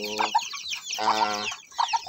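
A native all-black mother hen clucks with her chicks, close-up, in three short bursts of throaty, soft clucking over about two seconds.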